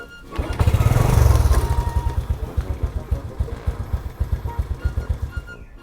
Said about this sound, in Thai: จากนั้น สตาร์ทเครื่องยนต์ ทิ้งไว้ 1-2 นาที